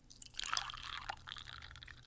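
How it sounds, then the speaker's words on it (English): Coffee pours into a cup at a diner, a soft, quiet liquid stream with faint dripping, running steadily for about two seconds with no voices. "The eternal pour at our local diner, where the coffee never grows cold and the cups never run dry"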